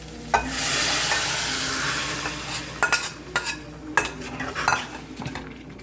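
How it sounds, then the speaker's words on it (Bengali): Boiled toor and moong dal is poured into a hot pan of fried spices, making a swelling rush and hiss. A run of metal spoon clinks and scrapes follows close by, with no speech. "এবার আমি ডালটা ঢেলে দিচ্ছি।"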